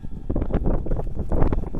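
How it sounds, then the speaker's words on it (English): Wind gusts across a flower garden, a steady rushing buffet of noise on the microphone with rustling surges, loud and continuous throughout. "It's really windy now."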